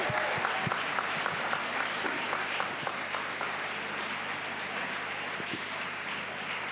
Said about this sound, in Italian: Un bel applauso per Gianni Roiati.